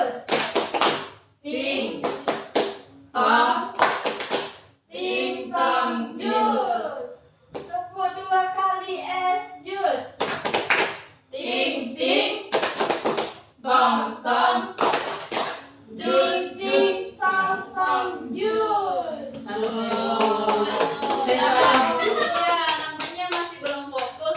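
Children in a classroom play a rhythmic clapping game, sharp bursts of hand claps alternating with chanted counting and singing voices, loud and close throughout.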